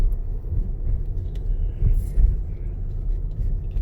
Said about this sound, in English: You could hear that V6 going off.